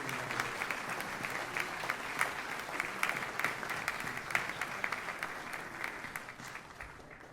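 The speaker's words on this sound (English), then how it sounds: "let's give one more round of applause for all of our service members and families" Audience applause for service members and families at a high school Day of Remembrance ceremony, steady dense clapping with sharper individual claps standing out, moderately distant and fairly quiet, sustained for several seconds.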